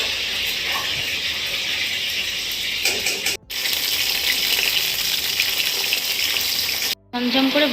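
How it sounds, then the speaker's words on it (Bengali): Vegetables sizzle and fry in hot oil in a wok, a loud continuous crackling hiss with brief stirring noises and two short dropouts. "এবার এগুলো একটু ভেজে নিই।"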